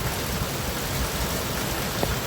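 Heavy rain pours down in a steady, dense hiss of drops with no break, loud and even throughout, with no voices.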